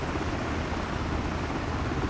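A helicopter in a flight simulator game drones with a steady, dense rotor and engine hum, constant and close with no voices over it.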